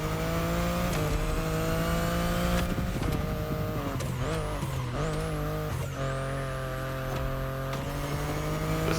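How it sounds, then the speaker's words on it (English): A BMW M8 drives in the racing video game The Crew Motorfest at night, its engine droning steadily with rising and falling revs and gear shifts, tones sweeping up and down, fairly loud and with no talk. "This is a solid driving car in this game though."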